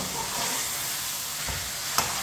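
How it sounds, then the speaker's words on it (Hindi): Seasoned chicken fries in a pan while a spoon stirs it, a continuous close sizzle with scraping movement and a brief sharp clink near the end. "अब इसे 3-4 मिनट के लिए इसी तरह चम्मच चलाते हुए भून लेंगे, फ्राई कर लेंगे।"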